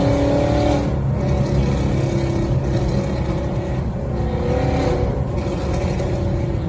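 A loud modified car heard from inside the cabin, its engine droning heavily with swelling revs and a deep rumbling exhaust note, filling the space without pause.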